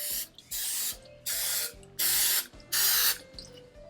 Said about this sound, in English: Starting out by greasing your pan with a little bit of cooking spray.